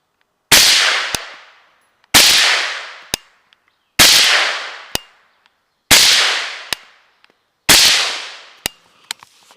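Five rifle shots fired through an AAC 556 SD suppressor, each a sharp loud crack with a decaying tail, spaced about two seconds apart, followed each time by a short metallic clack from the action.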